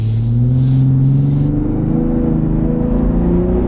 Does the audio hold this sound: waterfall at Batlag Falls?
no